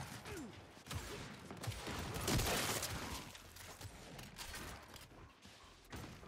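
Gunfire in the video game Gears 5 comes as a dense burst of rapid shots with mechanical clatter, loudest midway through the clip and then thinning into scattered pops, heard close and alone with no talk.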